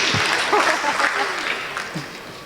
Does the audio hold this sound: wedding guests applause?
yes